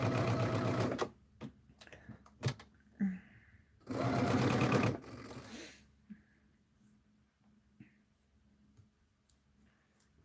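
A sewing machine stitches a Shooting Stars quilt in short bursts, with two loud runs of rapid whirring separated by quiet pauses and small clicks and handling sounds.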